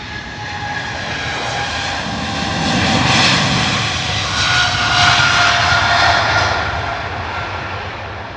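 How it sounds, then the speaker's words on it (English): A Kuwait Airways Boeing 777 heavy takes off from Heathrow, a loud, sustained jet roar with whining turbine tones that swells and holds for several seconds, close and without talk. "Wow, what a gorgeous departure from that Q8 777."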